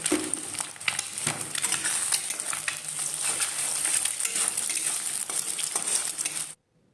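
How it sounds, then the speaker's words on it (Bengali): An egg fries in a pan with a bright, even sizzle and scattered small clicks and taps, heard up close until it cuts off near the end. "ডিম ভাজা হয়ে গেছে।"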